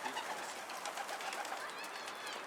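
Pigeons cooing softly inside a coop, overlapping low calls and rustling, with faint voices in the background.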